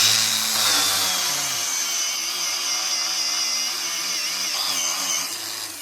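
A power tool sanding a chrome weld with fine 500-grit abrasive on a caravan balcony project, a high whirring grind with a wavering motor pitch that slows toward the end, close and loud, with no talking.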